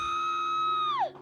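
A single sustained, high-pitched scream holds steady, then breaks and slides sharply downward before cutting off.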